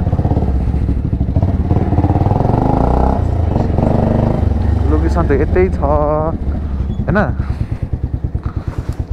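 Motorcycle engine running steadily with rattling and clatter while riding over a rough road, loud and close throughout, with someone talking over it.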